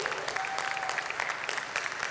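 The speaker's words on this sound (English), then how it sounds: "जोरदार तालियां हो जाए" At a design confluence and showcase in Thane, an audience claps softly at some distance, a brief patter of applause that stays fairly even throughout.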